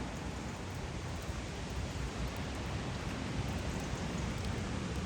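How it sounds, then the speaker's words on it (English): Rain falling steadily outdoors at the Ponte Delle Catene, a dense, even hiss of moderate loudness that holds without pause. "It's raining today."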